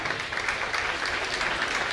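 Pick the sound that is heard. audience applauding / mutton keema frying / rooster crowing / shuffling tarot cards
audience applauding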